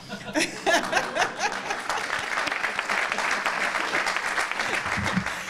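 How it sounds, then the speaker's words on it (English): Audience at a university grant announcement breaks into clapping that starts in scattered claps, swells into steady applause and carries on moderately, with a little laughter and murmured voices mixed in. "You can go ahead and applaud, Father."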